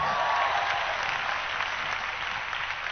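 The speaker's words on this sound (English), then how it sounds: "You should clap for me, sir." Church audience applauds a preacher at a sermon, a steady, dense wash of clapping from a large crowd that holds evenly throughout without speech.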